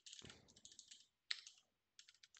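Quick taps on a computer keyboard while coding, a few short clustered bursts of clicks separated by brief pauses, close and crisp in an otherwise quiet room.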